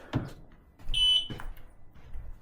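A single short electronic beep from an xTool S1 laser engraver as the lid is closed, brief and clear, amid faint handling noises.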